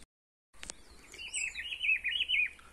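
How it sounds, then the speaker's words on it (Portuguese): A green-winged saltator calls outdoors, a sharp chip followed by a run of bright warbling notes at middle distance over faint background hiss, with no voices. "o trinca-ferro tá só piando"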